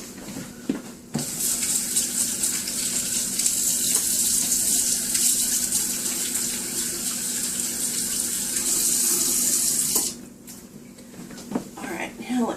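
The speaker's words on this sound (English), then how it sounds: "Let me wash them off real fast." Water runs from a kitchen tap as hands are washed, a steady close hiss and gush lasting about nine seconds before shutting off, with faint talk around it.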